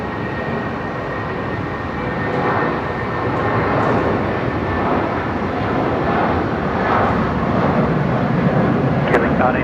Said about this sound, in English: shine the light airborne. It's going to be pretty fast as well. Right, this is Jetstar 823 heading off to Sydney tonight.